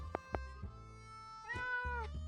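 A cat meows twice in the post-apocalyptic survival game 60 Seconds, a pair of clear, close calls over a steady low game hum, the second drawn out and falling in pitch.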